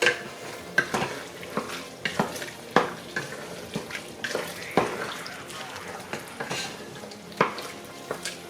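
A spoon stirs homemade chili in a pot with a soft sizzle underneath, repeated scraping strokes and clinks against the pot in an uneven rhythm, with a voice talking at times.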